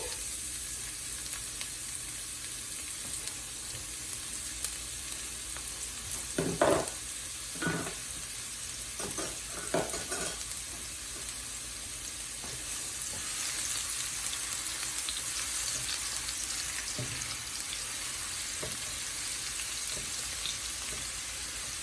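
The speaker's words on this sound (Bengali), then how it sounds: "তেলটা গরম হয়ে গেছে, আমি এখানে পেঁয়াজ রেখেছি কেটে, পেঁয়াজটা দিয়ে দিচ্ছি।" Chopped onion frying in hot oil gives a steady, close sizzle with a few scattered clatters of a spatula and pan, the hiss swelling slightly louder toward the end.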